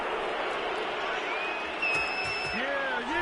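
A stadium crowd in the Madden football video game reacts to a penalty call with a steady, loud roar and a few whistles rising over the din throughout.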